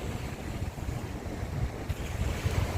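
Strong wind roars across the microphone at a seaside at night while rough sea waves churn and wash in a constant, rumbling surge, with no voices.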